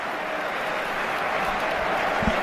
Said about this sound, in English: The crowd appreciates the effort, not only by Fede Valverde, by Vinicius Jr.